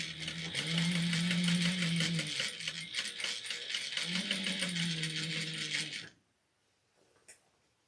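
A sewing machine stitches the last seam of a Halloween trick-or-treat basket in rapid, even mechanical pulses. It runs in two close bursts, then stops abruptly, leaving near silence and a faint click.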